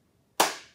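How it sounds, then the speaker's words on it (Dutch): A single sharp hand clap counting a syllable of a Dutch word, close and crisp, with a short decaying ring after a moment of near silence. "Dan gaan we winterslaap klappen."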